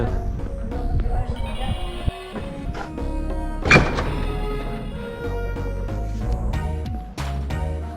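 A locked university door is pushed and tugged, giving several dull thunks and a rattle, with a louder clunk midway among scattered knocks and background noise.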